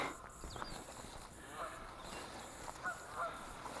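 Geese honk at a distance outdoors, several scattered calls over a breezy, noisy background with a drone flying nearby, while a person speaks quietly.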